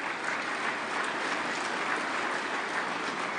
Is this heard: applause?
yes